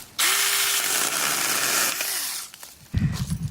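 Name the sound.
small battery-powered pruning tool running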